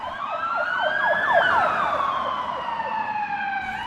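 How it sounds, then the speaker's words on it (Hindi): Ambulance and police sirens wail together, loud and close, one sweeping up and down in quick repeated yelps while another holds a rising steady tone over a low rumble of traffic. "तब तक एम्बुलेंस और पुलिस भी आ चुकी थी।"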